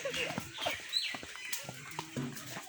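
Chickens cluck in short, repeated bursts at close range in a rural yard, with voices talking intermittently over them.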